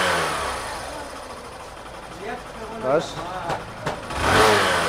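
A Hero Super Splendor BS6 motorcycle engine runs close by and revs in several rising surges over a steady idle, while someone speaks briefly.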